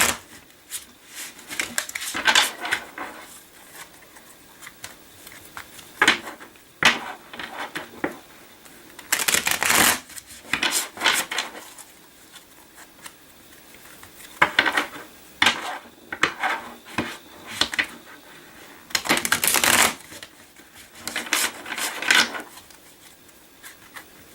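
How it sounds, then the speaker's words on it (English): Tarot cards being shuffled by hand in short repeated bursts of crisp riffling and clacking, separated by quiet pauses, close and fairly soft. "Going to shuffle here a couple more times just until I feel an energy shift."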